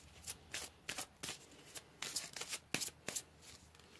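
Tarot cards being shuffled in a series of quick riffling bursts, close and fairly faint, with short pauses between each flurry and no talking.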